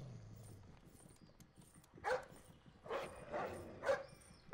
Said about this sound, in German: Der Hund sucht nach uns.